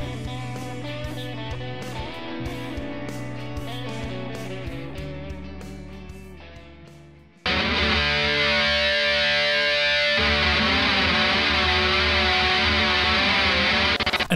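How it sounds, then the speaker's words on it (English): Electric guitar run through a pedalboard with every effect turned up to maximum: cleaner picked notes fade out, then a sudden, loud, dense wash of overlapping effects swells and sustains to the end. "imagine turning everything up to the max on your pedal board"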